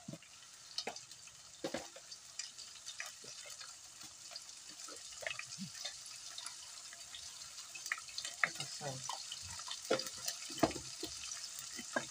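Chicken breast frying in a pan for chopsuey: a steady close sizzle with scattered pops and occasional stirring clatter, continuing throughout without speech.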